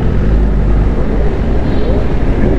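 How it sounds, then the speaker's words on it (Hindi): A Kawasaki ZX10R motorcycle roars through a tunnel, its loud exhaust a continuous, booming drone that fills the enclosed space at close range. "बहुत ज़्यादा लाउड एग्जॉस्ट है"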